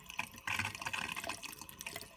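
Hot water runs from an RV tap fed by a newly installed tankless heater, a steady close splashing stream with low pressure that holds alone for a couple of seconds.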